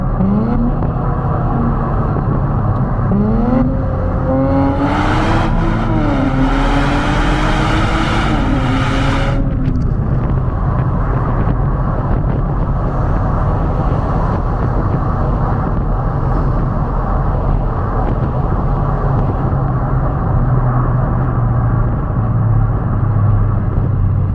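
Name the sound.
sports car engine revving in tunnel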